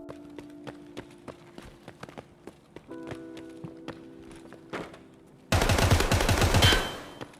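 Gunfire from a DT MDR .308 rifle in Escape From Tarkov: sharp single shots spaced irregularly over quiet background, then a sudden loud, dense rapid burst near the end before tailing off.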